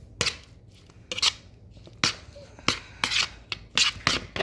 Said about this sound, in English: I cut up a little bit of green onions to help bring the flavor out